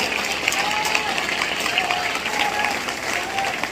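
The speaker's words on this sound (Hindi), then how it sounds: "एक बार उनके सम्मान में सब लोग खड़े होकर ताली बजाइए।" A seated audience rises to its feet and applauds in honour of someone at a Hindi-language public gathering, producing a steady, dense wash of clapping that holds evenly throughout.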